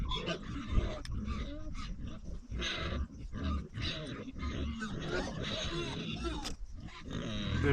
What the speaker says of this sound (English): Them pigs think it's dinner time, so they're being noisy as ever.